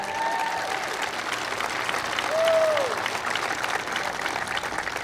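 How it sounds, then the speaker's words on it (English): Crowd applause at an outdoor presidential speech at a port, a broad sustained roar of clapping that swells briefly midway, with faint voices and cheers under it. "Give them a big round of applause."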